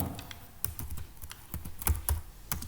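Typing on a computer keyboard while entering a name and roll number into a web form, a quick, uneven run of close, crisp key clicks with a few heavier thumps, without speech.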